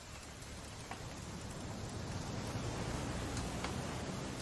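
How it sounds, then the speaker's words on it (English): Steady rain from What Remains of Edith Finch hisses as a continuous, even wash of noise with faint scattered drip ticks, no voices over it. "It's gonna rain the whole weekend,"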